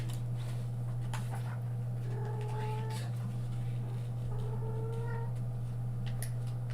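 A cat meows a few times, soft drawn-out calls set against a steady low electrical hum and background room noise.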